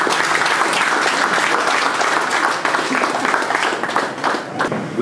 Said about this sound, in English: Please prepare your hands together to clap for our handsome president.